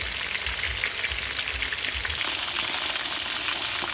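Oil sizzles and crackles steadily in a hot pan as freshwater pomfret fries, a continuous bright frying hiss with no talking.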